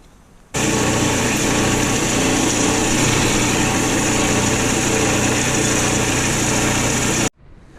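A power drill runs steadily while boring holes into a wooden stud, one continuous loud high-pitched whine of about seven seconds that starts and stops abruptly, close by with no talking.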